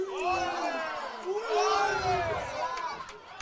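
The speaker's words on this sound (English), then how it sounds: "You hear the crowd getting hyped up for Olivia there." Spectators at a girls soccer game cheer and shout loudly, a dense crowd roar with rising voices that swells and stays strong for a few seconds.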